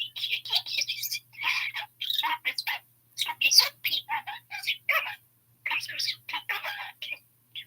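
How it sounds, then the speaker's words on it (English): A pet bird perched on a person's shoulder chirps and tweets in quick bursts of high, close calls separated by short silences, with no talk. "He's only been chirping on my shoulder this morning."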